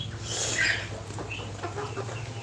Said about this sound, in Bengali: এইখানে শুধু গোল্ডেন ফার্মি মুরগি